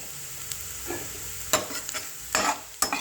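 Bitter gourd frying in oil in a pan: a low steady sizzle runs underneath while several loud spatula scrapes and stirring bursts cut in, close and without speech.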